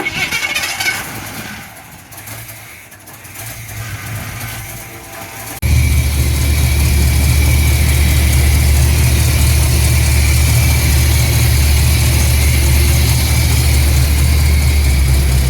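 After some mechanical whirring, a pickup truck engine with a newly installed, adjusted distributor catches and starts, then keeps running in a loud, steady, rattling idle up close.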